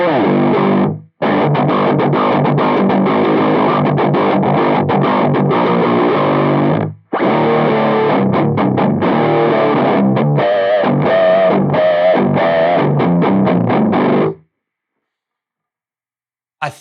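Ormsby guitar tuned to drop G played through Vox Tonelab EX distortion, loud and saturated, riffing in long bursts broken by short pauses, then ringing out to silence near the end.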